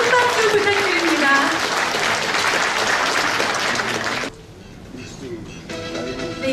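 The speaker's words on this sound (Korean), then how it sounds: "여러분 큰 박수 부탁드립니다" An audience applauds at the 2013 Korean traditional pop music awards ceremony: loud, dense clapping that drops off sharply, then swells again, with a voice heard over it at the start.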